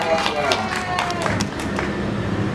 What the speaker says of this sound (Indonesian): Tepuk tangan untuk anak-anak kelas 1